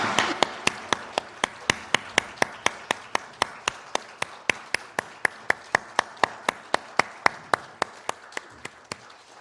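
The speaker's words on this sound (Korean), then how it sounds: "하나님께 영광의 박수 올려드리겠습니다." A congregation at an Easter Sunday church service claps in unison, a steady rhythmic beat of sharp synchronized claps at about three per second, loud and close, with no voices over it.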